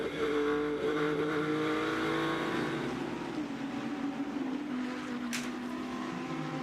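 GT World Challenge race cars, a Ferrari and a BMW running nose to tail at Misano, roar past with a loud sustained engine drone whose pitch slowly sags, then a brief sharp burst near the end.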